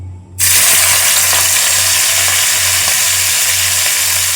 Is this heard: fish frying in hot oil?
yes